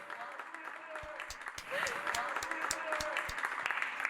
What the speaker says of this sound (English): Wherever they go, just loud applause.